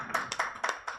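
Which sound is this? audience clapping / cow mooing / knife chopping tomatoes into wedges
audience clapping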